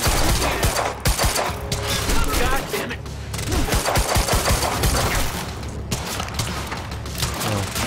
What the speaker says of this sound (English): Weapons fire.